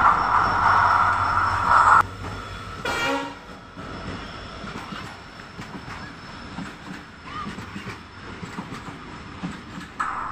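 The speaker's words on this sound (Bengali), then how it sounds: "আমাদের ট্রেন উদালগুড়িতে 2 নম্বর প্ল্যাটফর্মে ঢুকে গেছে" A passenger train rumbles loudly for about two seconds entering platform 2 at Udalguri station, then a brief horn-like blast, followed by quieter rolling rail noise and clatter as it slows.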